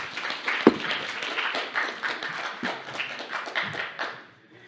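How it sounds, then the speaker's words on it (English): Applause from a competition semi-final audience honoring Team 89: a dense, steady wash of clapping hands lasting several seconds, with one sharp louder clap early on, tapering off at the end. "Big applause for Team 89"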